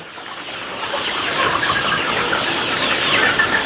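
Chickens on a 300-bird poultry farm cluck in a dense, continuous flock chorus, fairly loud and close, with no talking.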